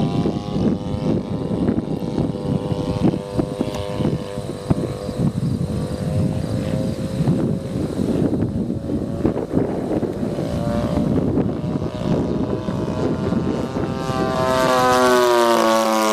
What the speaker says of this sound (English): It's a big airplane.